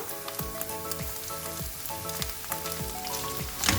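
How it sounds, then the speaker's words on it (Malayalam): A spoon stirs potato halwa with ghee and sugar in a pan, making a regular rhythm of scraping strokes about every half second over a steady low sizzle, with no talk. "നന്നായി മിക്സ് ചെയ്യാം."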